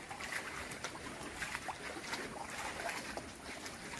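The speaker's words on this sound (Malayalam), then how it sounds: "ചെറിയ ചാറ്റ മഴയുണ്ട്" Light drizzle falls on open water, making a faint, soft patter of scattered tiny drops with occasional small splashes over a quiet background.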